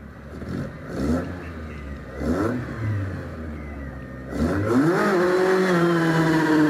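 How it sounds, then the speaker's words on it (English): A Mini hillclimb car with a 1380cc engine revs at a hillclimb event. The engine blips several times, then the car accelerates hard away, the engine rising loud and near and climbing in pitch. "GSW John Stuart Wood Mini. 1380cc engine"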